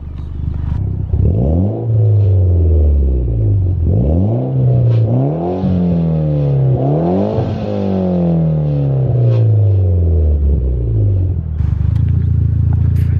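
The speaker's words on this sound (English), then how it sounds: "let's go ahead and get a quick exhaust clip" A Mitsubishi Evo X with a straight-pipe exhaust revs repeatedly through several loud rising pulls, each climbing in pitch then dropping back to idle, close and raw.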